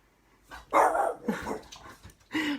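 Close pet dog barking and yipping in several uneven bursts, mid-loud, with a short pause before a final bark.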